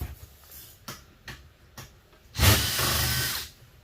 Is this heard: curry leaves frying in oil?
no